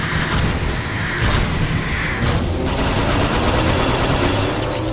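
Dense, loud gunfire from the video game Transformers: Rise of the Dark Spark, a continuous barrage of rapid shots and explosions with mechanical whooshes throughout.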